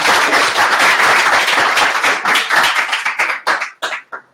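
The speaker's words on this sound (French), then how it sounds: "on peut l'applaudir aussi" Audience applause for a speaker at a data analytics talk, a loud close burst of clapping that holds steady and then thins into scattered final claps.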